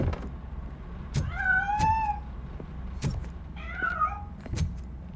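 A cat escaping in the video game RoboCop: Rogue City gives two drawn-out meows, one after the other, amid sharp thuds and clatter.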